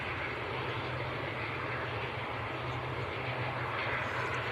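A Loganair airliner from the Isle of Man at Manchester Airport, its engines making a steady, fairly distant roar that holds level throughout.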